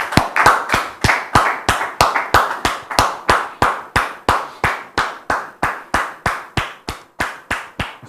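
Guests are welcomed onto a talk show set with rhythmic clapping, sharp close hand claps landing in an even, steady beat, roughly three per second, each one crisp and distinct with quiet gaps between.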